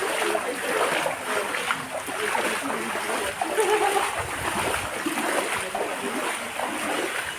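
Splashing in brownish flood water treated as a river for diving, with continuous choppy sloshing and splatter throughout, close by and steady, while voices are present in the background.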